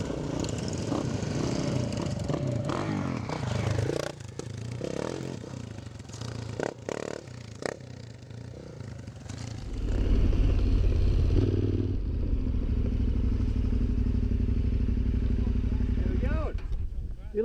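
KTM adventure motorcycles ride and slide through mud in the Blue Mountains, their engines droning and revving under steady talk, and the rumble swells louder partway through.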